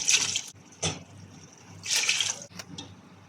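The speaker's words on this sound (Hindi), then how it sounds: "अब हम इसमें पानी ऐड करेंगे।" Water splashes into a pot of soaked rice for mutton tahari in two or three short, close pours, each a bright gush followed by a brief trickle and drip.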